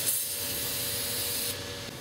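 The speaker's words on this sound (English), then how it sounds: "we take a can of carb cleaner, clean out the bearing really well, blow it out with some compressed air" Carb cleaner sprayed from a can into a bearing during an Arctic Cat MVM belt drive install, a continuous close aerosol hiss that softens slightly near the end.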